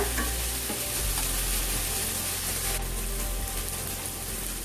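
Rice cooking with prawns is stirred in a hot pan, a dense continuous sizzle and frying hiss with scraping stir strokes, close and loud throughout, no voices.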